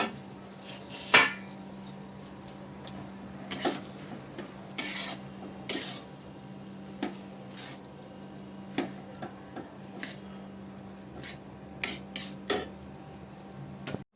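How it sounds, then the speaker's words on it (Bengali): Veg chowmein noodles being tossed with sauce in a pan, with quiet scraping and intermittent clinks of a utensil against the metal at irregular intervals. "এবার ভালো মতো আমি সসের সাথে মিশিয়ে নেবো চাউমিনটা।"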